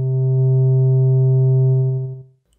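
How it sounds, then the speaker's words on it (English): A Malekko Manther synthesizer's triangle-wave oscillator holds one soft, mellow, flute-like steady note for about two seconds before fading out, heard alone. "triangle,"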